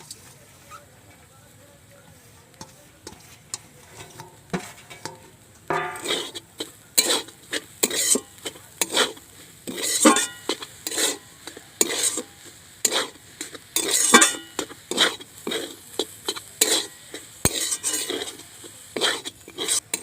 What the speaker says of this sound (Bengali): এবার ধনেপাতা দিয়ে ভালো করে নেড়ে চেড়ে নিয়ে আমি এবার একটা ডো তৈরি করব।